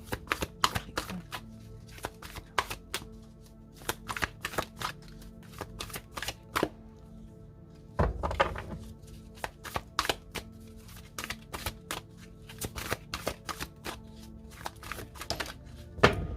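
Tarot cards shuffled and laid down in a twin-flame reading, a string of crisp, close slapping and riffling clicks with brief pauses and a denser burst midway, no talking.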